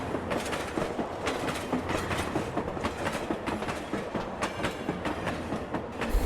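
A train rolling on rails in the video game Station 5, with a continuous loud rumble and a regular clickety-clack of wheels crossing rail joints throughout.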